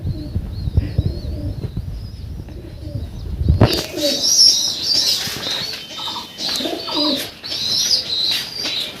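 Pigeons, including a female, coo softly before a sudden loud burst of wing flapping, followed by further fluttering, chirps and coos nearby.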